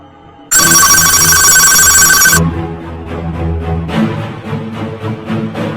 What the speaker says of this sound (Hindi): उसने जल्दी से कॉल लगाया।